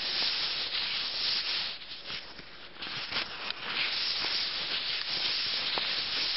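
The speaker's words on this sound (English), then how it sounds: "the sandpaper might be rubbing a little bit against the cast" Sandpaper rubs steadily against the skin of a leg to take off hair near a cast, producing a continuous close scratchy hiss with small strokes in its texture and no talk.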